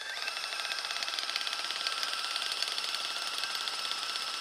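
Power drill boring a hole into a broken bolt stuck in an engine block, a steady high-pitched whine held for several seconds at close range with no talking.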